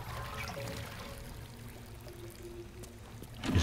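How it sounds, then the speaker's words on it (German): Water from a pump pouring in Baldur's Gate 3, a steady trickling stream with faint tonal hum beneath, ending in a louder splash burst near the close; no talk. "Wasserpumpe."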